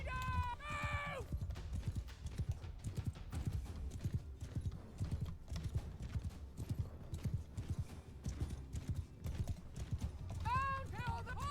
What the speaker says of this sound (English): Downhill the horse attack!